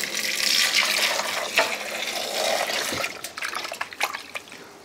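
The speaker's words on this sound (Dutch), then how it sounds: "We gaan onze aardappelen eerst gewoon even in volle water even afspoelen." Potatoes are rinsed under a running tap in a kitchen, water splashing and gurgling steadily up close, broken by a few clattering knocks toward the end.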